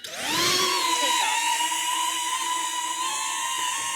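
A DJI Neo 2 drone takes off, its propellers spinning up fast into a loud, steady high-pitched whine that holds close by for several seconds without speech.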